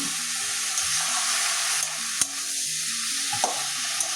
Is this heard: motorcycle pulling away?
no